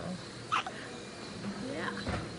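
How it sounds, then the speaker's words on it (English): Small hiccups from a premature baby boy in a hospital neonatal unit, two or three soft, brief catches spaced about a second apart, faint and close under a quiet room hum. "We need every one of those hiccups to make you grow."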